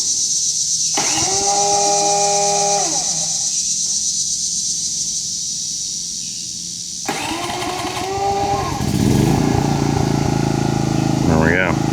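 A 53-pound, 3200-watt portable generator is remotely started with its electric starter, cranking briefly and then catching into a loud, steady running drone, with a person talking over it.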